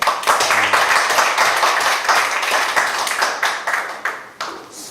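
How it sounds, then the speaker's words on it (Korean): A crowd claps to welcome a speaker to a lecture, starting as loud, close, dense applause and thinning out into scattered individual claps toward the end. "큰 박수 부탁드리겠습니다"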